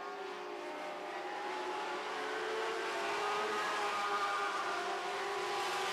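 Winged sprint race cars with 16-square-foot top wings drone around a racetrack, a steady, fairly distant engine whine that holds and swells slightly, with no talking.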